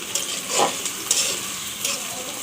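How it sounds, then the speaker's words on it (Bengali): Vegetables, including okra, are lightly fried in hot mustard oil with tilapia in a pan, making a steady close sizzle broken by a few spatula stirs. "এখন আমি এগুলি একটু হালকা করে ভেজে নেব।"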